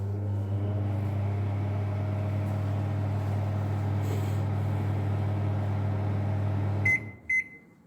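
A Samsung microwave oven runs with a steady low hum for about seven seconds, then stops and gives two short electronic beeps. No one talks.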